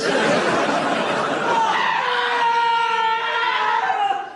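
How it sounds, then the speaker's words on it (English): A comedy sound effect of two people screaming, a loud, sustained, rising and wavering scream that holds for several seconds and tails off at the end. "No, that was two screams"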